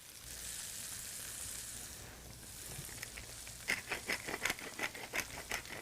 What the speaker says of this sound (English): After cutting up an onion and green pepper, we saute them in a splash of olive oil